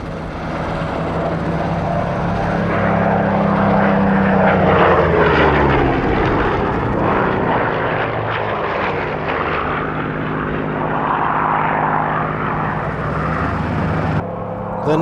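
An early-mark Spitfire propeller fighter flies an airshow display at Duxford, and its loud droning piston engine holds steady throughout with a slow pitch shift as it passes.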